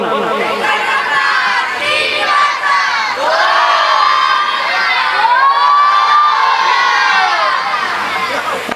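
Loud crowd of children shouting a victory chant in unison at a kirtan in Balaji Nagar, Umred; the massed voices ring out continuously, with rising, swelling cries throughout.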